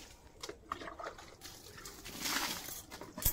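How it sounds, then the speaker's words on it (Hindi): Water poured from a bucket onto dry garden plants in a village yard, a soft, close splashing and trickling that swells midway and continues without talk. "हम पानी खींच के ला दिए थे बाल्टी में और इन पटा रहे बारी में"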